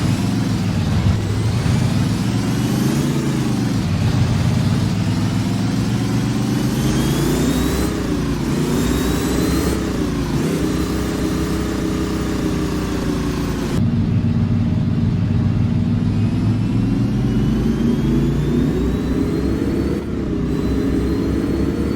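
A vintage Ford 534 ci V8 in an F800 truck, simulated in American Truck Simulator, rumbles loudly and continuously, revving up and down through several rising pulls with brief dips as gears shift.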